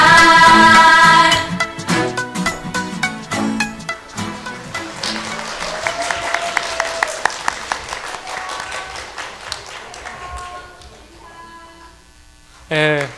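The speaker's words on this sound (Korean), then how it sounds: "많은 박수 부탁드립니다." A church congregation applauds at a Korean Presbyterian Sunday worship service, steady clapping swelling through the room after a praise song, with music fading out and a brief voice near the end.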